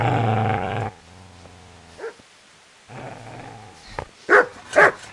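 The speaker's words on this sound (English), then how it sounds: "Get away, you mutt!" Dog in a PS4 video game growling low and steadily, then a pause and a few sharp, loud barks near the end.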